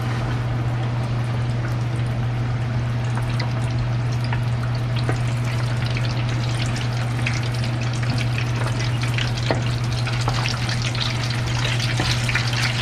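Chicken fries in very hot oil, a dense, steady crackling sizzle with scattered pops and spits, close and constant with a low background hum, no voices.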